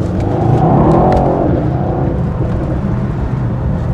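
A 2018 Mercedes-AMG E63 S 4MATIC+ accelerating hard, its engine and exhaust giving a loud, deep, continuous roar heard from inside the car, swelling at first and then settling into a steady rumble.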